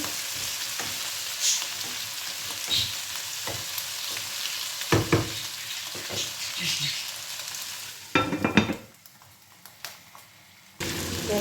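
Potatoes and green beans fry in a pan for a chicken dish, giving a soft steady sizzle broken by clattering stirs and a few sharper pops, with no talking.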